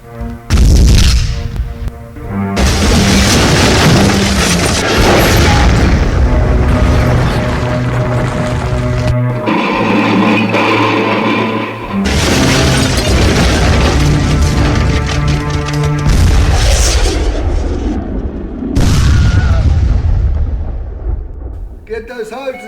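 Large explosion of burning oil near engine sheds in a cartoon scene, loud sustained booming and roaring blasts filling the whole stretch, with brief breaks and voices and dramatic sound mixed in.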